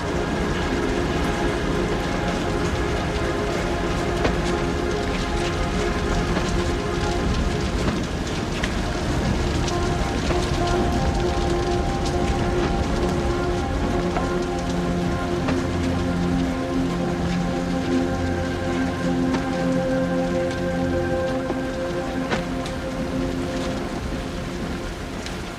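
Heavy rain falls steadily in a flooded town, a dense, even wash of noise that holds without pause and has a faint low mechanical rumble beneath it.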